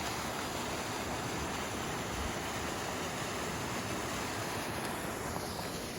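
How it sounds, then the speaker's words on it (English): Roush Creek runs in a steady, broadband rush that fills the whole stretch evenly, with no breaks, voices or other sounds standing out. "This is Roush Creek."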